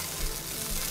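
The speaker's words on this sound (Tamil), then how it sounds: "ஜென்டலாக மிக்ஸ் பண்ணிக்கோங்க." Vegetable fried rice with spring onion being gently mixed in a hot pan, a brief, close, continuous sizzling hiss with faint scraping of the stirring, no voices.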